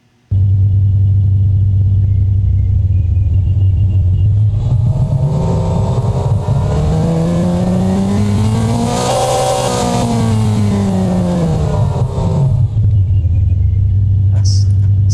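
A car engine and exhaust built in the Krotos Igniter sound-design tool idles low, then revs up to a high peak and falls back down, loud and continuous.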